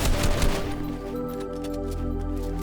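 Burst of gunfire from the Fortnite video game during an arena fight, a dense rattle of shots loudest at the start, then steady game sound with tonal layers beneath.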